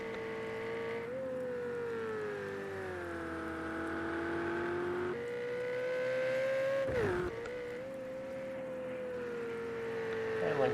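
A Ferrari GTE race car in Project Cars on a wet Bathurst Mount Panorama track holds a loud, close engine drone, rising and falling through gear changes with a sharp dip and recovery midway.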